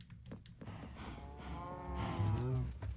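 Minecraft cows on a cow farm moo in a low, drawn-out way, several overlapping calls rising over a steady background, fairly close and loud.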